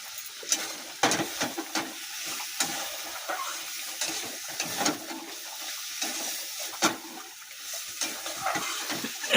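Meat curry bubbles away in a pot seasoned with mustard paste and turmeric, a continuous close simmer with scattered pops and sputters and a few sharper clicks, no one talking.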